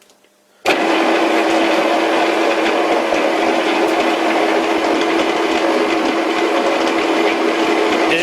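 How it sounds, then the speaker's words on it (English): A small drill press turns at 210 RPM, its bit fed very slowly into a workpiece in the fore jaw, giving a steady, loud, even mechanical whir and grind that starts abruptly and holds constant without talk. "I'm running at 210 RPM, and I'm feeding it very slowly."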